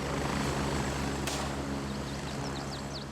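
Helicopters flying in the video game Grey Zone, a steady low rotor drone that fills the whole stretch at constant loudness, with a brief sharp burst near the middle and faint chirping tones toward the end.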